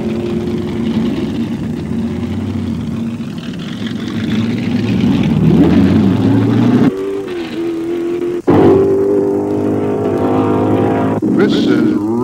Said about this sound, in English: The March 707, powered by a huge 494 cubic inch Chevrolet engine.